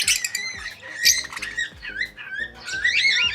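A pet bird kept in a small home aviary squawks repeatedly and loudly at close range, with harsh rising calls over a light pattering and scratching underneath.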